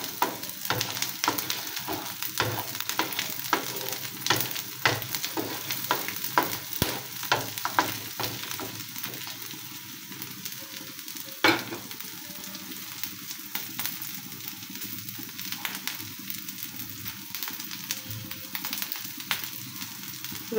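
Chopped garlic fries gently in oil for a Bengali kalojira bhorta, a soft, close sizzle dotted with frequent sharp clicks and scrapes of a spoon stirring the pan.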